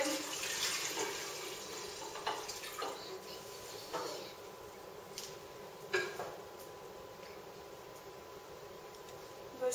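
Sweet tea for kombucha pours steadily into a glass jar at first, then thins to a few trickles and drips in a quiet room.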